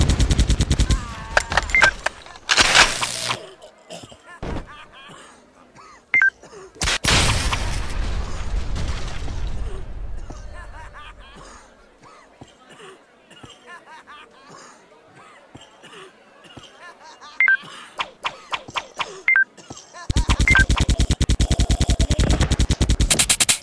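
Rapid gunfire from a mobile shooting game sprays bursts at zombie clowns at a circus, sharp repeated shots alternating with quieter stretches of game sounds and clicks.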